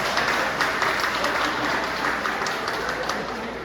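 Seated attendees at a lecture at Funcamp applaud a good idea, a continuous mid-level patter of many hands clapping that eases off slightly toward the end.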